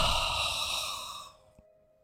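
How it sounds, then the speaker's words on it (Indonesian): A heavy, drawn-out breath exhaled in a horror story narration about a pesantren haunting, loud and close, fading out into near silence with a faint click at the end. "Robi mendengar suara hembusan nafas berat di belakangnya."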